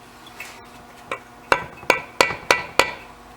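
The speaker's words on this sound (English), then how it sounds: "you should just tap that with a real small hammer" A small hammer taps an oil seal into a Mercruiser Alpha One gearcase, giving two soft knocks followed by five sharp, evenly spaced metallic taps, close and clear with no talk.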